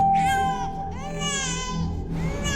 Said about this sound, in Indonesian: Ada dede bayi nangis.